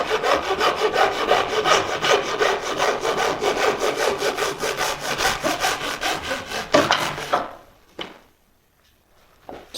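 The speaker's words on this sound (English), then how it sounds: "Starting to round the crown of the hood here, letting the chisel do the work, nice and slow" A chisel shapes the rounded crown of a wooden model truck hood for a 2025 Ford F-150 replica, giving a fast, steady train of close scraping strokes for about seven seconds before stopping, followed by a few faint taps.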